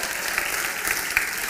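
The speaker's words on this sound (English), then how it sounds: "Everybody, round of applause for Craig and Kimberly." A church congregation claps in a brief burst of applause, steady and moderately close.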